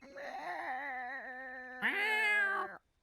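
A person imitates a cat with a long drawn-out meow that rises to a louder, higher wail before stopping abruptly.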